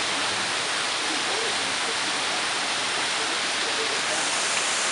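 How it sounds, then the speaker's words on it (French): Water rushes steadily into the Beaumont mill along the channel that turns its big wheel, a loud, continuous broadband roar with no break throughout. "Voici l'eau qui arrive au moulin"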